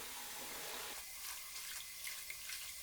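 Tap water runs steadily into a sink while a used car polishing pad is rinsed and squeezed under the stream, a soft, close splashing hiss with no voices.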